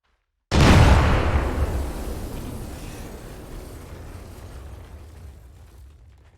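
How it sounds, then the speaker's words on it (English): Placed demolition charges detonate in one loud sudden blast after a moment of silence, followed by a long rolling rumble that slowly fades over several seconds. "be advised, charges are placed and they're going off"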